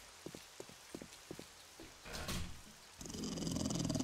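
A dog in the survival game 7 Days to Die gives a short series of low, rhythmic growls and grunts. A rain-like rush then swells and takes over.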